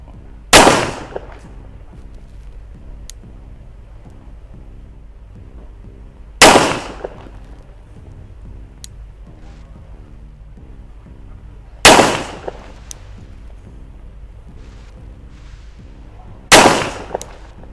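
Four sharp, loud pistol shots from a Colt Gold Cup Trophy fired at a target, spaced roughly five seconds apart, each with a quick ringing decay over a faint low hum.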